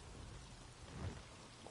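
Steady soft rain hisses in a perpetually rainy land in Elder Scrolls Online, a constant faint wash with a slight swell in the middle and no voices.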